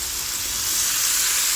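Coriander and chili powder masala fries in a pan, a steady close sizzle with light stirring throughout and a soft knock at the very end.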